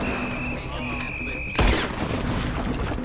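Single loud gunshot headshot in a Western-style video game using Deadeye slow-motion aiming, one sharp boom with a ringing tail, heard after a held tone and game ambience, with a voice talking around it.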